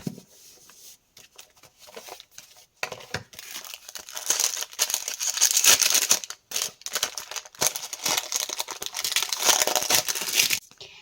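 Close crinkling of a paper packet as a sticker is peeled from it, with soft tearing and peeling, irregular and continuous, growing busier midway.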